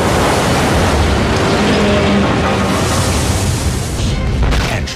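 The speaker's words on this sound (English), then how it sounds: "The bridge collapses into the harbor" A bridge collapsing into a harbor in an abandoned city, a loud continuous roaring rumble of falling structure and churning water, broad and heavy throughout before thinning out at the end.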